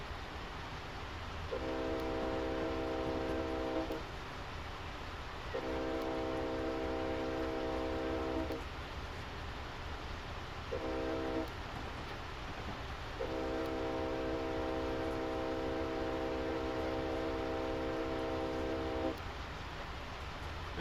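Locomotive horn in a train simulator on Sherman Hill, sounding a pattern of long, short and long blasts for a grade crossing, the last one held, steady and tonal over a low rumble of the moving train.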